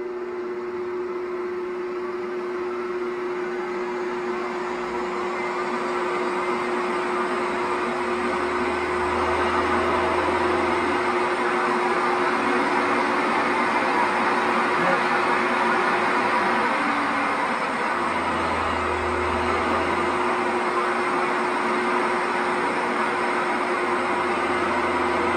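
A Shopsmith multipurpose tool's DC motor, fitted with new SCR speed controls, runs steadily with a loud, continuous hum and whine that holds throughout, swelling slightly as the speed is cranked up.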